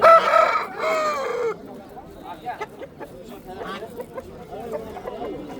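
A fighting rooster at a Samarkand poultry market gives one loud, close crow lasting over a second, then quieter market voices and bustle carry on.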